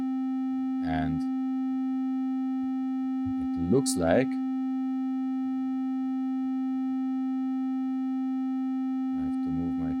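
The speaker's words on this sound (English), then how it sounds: "The triangle wave sounds like this" A steady triangle-wave oscillator tone from VCV Rack sustains throughout, a pure hum with soft overtones, interrupted briefly by short bursts of speech over it.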